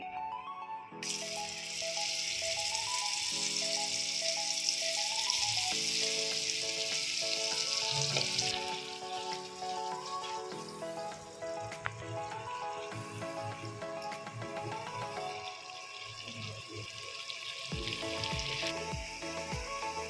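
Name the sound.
paneer frying in oil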